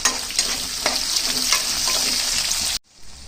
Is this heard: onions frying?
yes